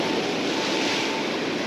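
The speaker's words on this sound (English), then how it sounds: "Oh man, that one splashed almost all the way up here." A big ocean wave crashing against a rock jetty at Dana Point, a loud dense roaring wash of surf and spray filling the whole moment, close and continuous.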